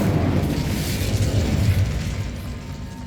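A Confringo explosion spell cast in Hogwarts Legacy bursts into a loud, sustained rumbling boom with crackling debris that stays dense for about three seconds before easing slightly, with no voices.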